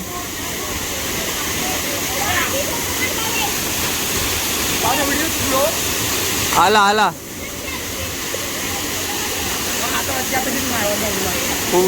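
Chander waterfall in Malvan, Konkan, roaring as a steady loud broadband rush of falling water throughout, with voices calling and chatter over it and a brief sharp shout partway.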